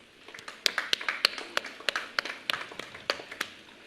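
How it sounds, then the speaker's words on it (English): Audience at the College of the Marshall Islands 2021 graduation ceremony applauding the graduates: sharp, scattered, irregular hand claps from a modest crowd, fairly close and clear, with no talking over them. "Let's give them all a round of applause."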